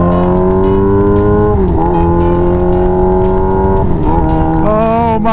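Engine of a 1984 Honda CB700SC motorcycle revving hard and loud, a steady high-pitched scream that dips briefly twice between gears before climbing again, close and continuous with no talking.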